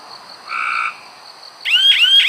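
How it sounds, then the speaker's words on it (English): Frogs call in a quiet night setting, a short tonal trill followed by louder, rapid pulsing croaks close by. "Hear the frogs?"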